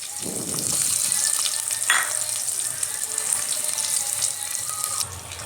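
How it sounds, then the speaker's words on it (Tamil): Small onions and slit green chillies sauté in hot oil for Chettinad fish kuzhambu, a steady close sizzle with a brief stir and scrape partway through, and no talking. "வெங்காயம் நல்லா பொன்னிறமாக வர வரைக்கும் நல்லா வதக்கி விடுங்க."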